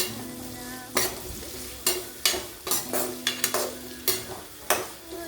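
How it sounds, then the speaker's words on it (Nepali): Cabbage and carrot sizzle in a pan while a utensil scrapes and clacks against it in irregular strokes, close up. "त्यसलाई ठट्याक्क गरेर भुट्नु पर्छ, हल्का हल्का भुट्यो हुन्छ"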